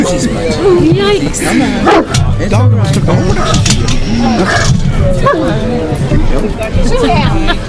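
A dog barks and yips repeatedly, close and loud, at a busy conference gathering, over a constant hubbub of crowd chatter and nearby voices.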